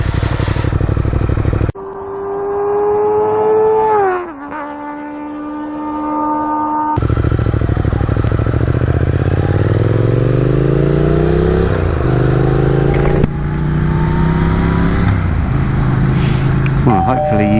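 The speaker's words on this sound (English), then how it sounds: "hopefully you can hear the exhaust is a bit better." A Speed Twin motorcycle with an X-pipe exhaust idles and revs close by, its exhaust note rising and falling through several throttle blips, with a car and other vehicles audible around it.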